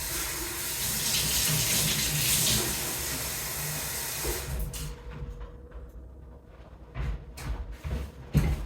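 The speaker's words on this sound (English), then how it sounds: "I'm just going to go ahead and give it a little bit of water." Water pours from a tap or container onto a potted Monstera deliciosa, a steady splashing hiss for several seconds that cuts off, followed by scattered drips and small handling noises.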